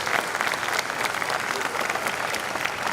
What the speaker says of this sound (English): Give a round of applause for our Chief Guest.